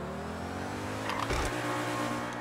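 Engine of an Ubermacht Niobe, a BMW i8 lookalike, revving in the GTA 5 video game, a steady sports-car drone that surges briefly in the middle before settling, heard alone without talk.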